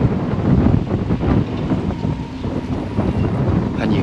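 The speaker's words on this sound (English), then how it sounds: "Check out the sound of the wind. I think going through the masts or the cables." Strong wind roars across the deck of the P&O Britannia cruise ship in the Mediterranean, a continuous heavy rushing gust buffeting the microphone, loud and close, no speech.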